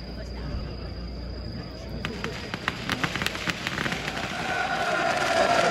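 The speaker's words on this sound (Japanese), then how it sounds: "今年度富永神社例大祭青年連合会会長寺尾優里君によります奉納手筒花火です" Handheld tezutsu fireworks offered at the Tominaga Shrine autumn festival in Shinshiro, a rushing hiss that builds and thickens with rapid crackling pops, heard amid a crowd with a voice over a loudspeaker.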